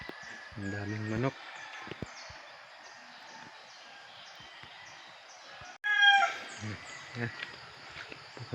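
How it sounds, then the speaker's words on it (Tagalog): Chickens and a rooster in a rural village yard, with a crow and clucking rising in short bursts near the start and again around six seconds over a steady background hum of insects, and faint voices in between. "Ang daming manok."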